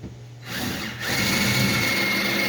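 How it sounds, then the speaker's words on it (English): A power drill spins up while installing a fuel cell in a 1941 Dodge truck build, starting quietly, then whining steady and loud close by after a brief pause. "I got the good drill out today."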